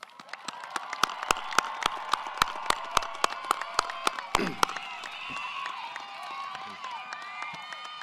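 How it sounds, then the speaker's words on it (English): Audience applause for graduates at a Class of 2025 commencement ceremony, with sharp rhythmic claps building into a steady crowd ovation and light cheering that carries on for several seconds. "one more round of applause for all of our graduates"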